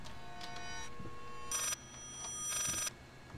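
A telephone rings in the horror video game Layers of Fear, two bright electronic ring bursts repeating over a low ambient hum, moderately loud and close.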